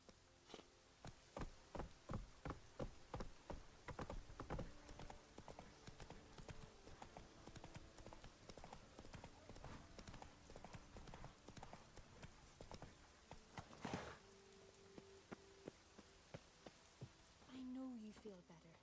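Roach the horse in The Witcher 3 runs, hooves clip-clopping in a steady rapid rhythm close by, slowing to scattered steps near the end, with game music underneath.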